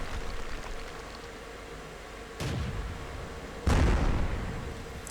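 Distant enemy artillery in a tank video game: two heavy booms, the second louder and closer, each followed by a rumbling decay over a steady engine-like background, no talking.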